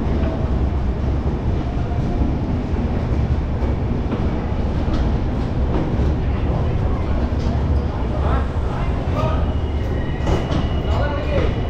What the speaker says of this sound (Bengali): একদম ঠিক 10টা বেজে 5 মিনিটে একদম নির্ধারিত সময়ে আমাদের ট্রেন কিন্তু ছেড়ে দিল।